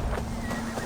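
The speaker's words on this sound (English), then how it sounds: "Now to deliver Magni's horse" A horse in Assassin's Creed Valhalla snorts and whinnies briefly amid dense outdoor game ambience, with faint hoof clops underneath, all loud and close in a short burst.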